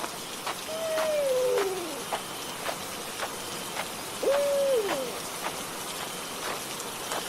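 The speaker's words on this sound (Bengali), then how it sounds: "ফিরফিরানি বৃষ্টি গাছের পাতায় পড়ে, সেটা আবার ফোঁটা ফোঁটা হয়ে রাস্তায় পড়ে।" Light rain patters steadily on leaves, with scattered heavier drips falling from the leaves onto a road, while an owl hoots twice in the background.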